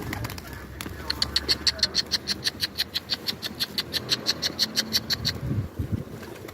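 A bird gives a fast series of regular, repeated calls for several seconds, close by, over faint outdoor background noise.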